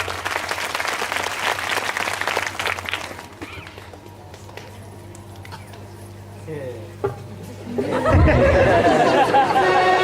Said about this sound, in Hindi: जोरदार ताली की अपेक्षा